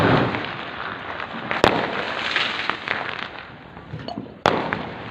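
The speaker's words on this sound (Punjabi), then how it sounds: "ਕੋਈ ਨਾਰ ਚਲਾਉਂਦਾ ਕੋਈ ਪਟਾਕੇ ਚਲਾ ਰਿਹਾ ਐ" Diwali firecrackers and rockets go off around a village, with two sharp, loud bangs standing out above a steady crackle and rumble of distant bursts.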